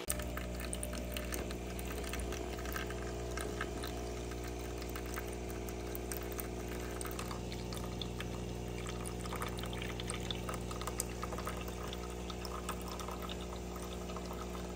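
Delonghi Eletta Explore coffee machine during its descaling rinse cycle: a soft, steady pump hum with water trickling and pouring through the circuits, continuous and quiet, with no voices.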